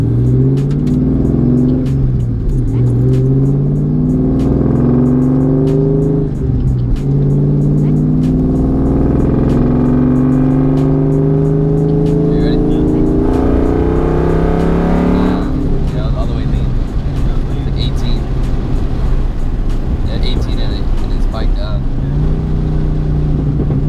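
A nitrous-fed 2V Ford Mustang with a 150-shot street tune accelerates hard on a public street, engine note climbing through repeated rising sweeps with gear changes, loud and close, with voices talking over it.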